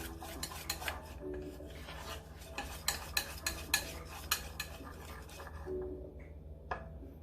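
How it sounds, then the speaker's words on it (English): Whisk or spoon stirring flour into egg yolk batter in a bowl for Japanese soufflé pancakes, giving repeated scraping, tapping strokes against the bowl, close and moderately loud, with a steady low hum behind. "Just be sure that the flour is mixed thoroughly with the egg yolk."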